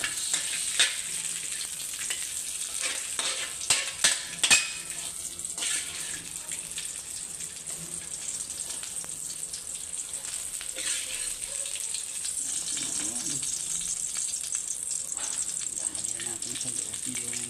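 Garlic frying in melted margarine in a pan gives a steady close sizzle, with a few sharp clatters and stirring knocks near the start.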